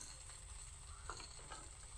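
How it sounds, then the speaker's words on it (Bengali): Taro, potato and eggplant fry in a pan while being stirred, a faint, steady sizzle with a few soft scraping knocks from the stirring toward the end, and no talking. "দিয়ে ভালোভাবে আরেকটু ভেজে নেব"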